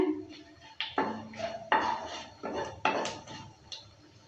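Whole cumin seeds frying in a pan with a bay leaf are stirred, producing a series of sharp metallic scrapes and clinks from a utensil against the pan, close and moderately quiet, in irregular strokes.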